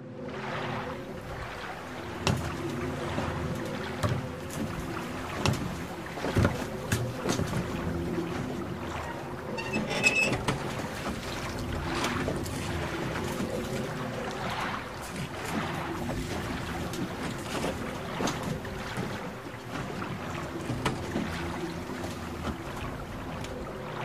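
Rowing a boat in the video game Silent Hill 2, with steady rhythmic oar strokes and water splashes over a dark ambient drone, heard alone with no talk.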